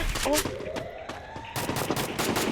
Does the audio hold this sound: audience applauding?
no